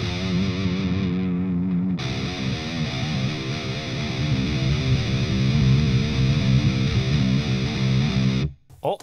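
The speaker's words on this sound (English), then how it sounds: "Wow, you can get a really great scoop sound." ML Sound Lab Amped ICON amp plugin producing a scooped high-gain electric guitar tone, with dense distorted chugging riffs played loud and continuously before cutting off at the end.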